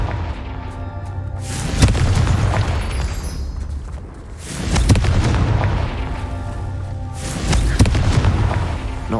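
Confringo spell explosions in Hogwarts Legacy: three loud, deep booming blasts about three seconds apart, each with a rumbling tail and crackling debris, with no voices.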